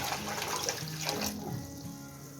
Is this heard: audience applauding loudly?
no